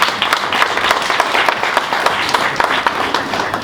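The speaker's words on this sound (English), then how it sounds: "We can continue the round of applause" Sustained applause from a room of medical colleagues at a SAMA 2019 awards gathering, dense steady clapping with scattered sharp claps throughout, loud and continuous.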